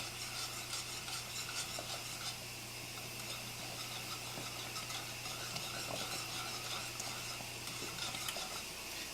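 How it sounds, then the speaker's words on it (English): Cheese sauce for mac and cheese being whisked in a pot, a steady scraping, stirring texture with faint clinks of the whisk against metal, continuous and close under a low background hum, no talking. "Doesn't make any difference which direction you whisk it"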